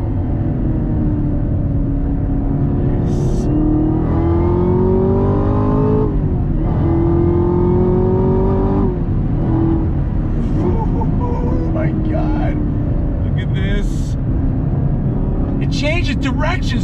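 A 2021 Chevrolet Camaro ZL1 1LE accelerating hard under throttle, its engine note climbing and dropping through gear changes across a sustained loud roar, heard from inside the car with someone talking over it.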